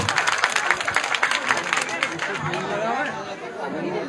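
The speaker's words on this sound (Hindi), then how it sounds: "इन भाइयों को ताली के साथ स्वागत कीजिए, ताली जोर से बजाओ" At a ward 14 election rally in Sant Nagar, a crowd claps loudly to welcome a leader, dense and continuous, mixed with lively chatter and shouting voices.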